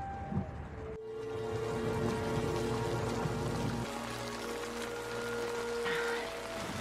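Rain falls steadily in a quiet scene from the Spanish drama Patria, a soft, even hiss with a low hum beneath it and a brief knock near the start.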